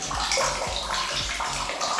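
Water pours steadily into a perennial rock-cut water tank at Bhawani Fort near Sangameshwar, making a continuous close rushing and gurgling wash with no talk over it.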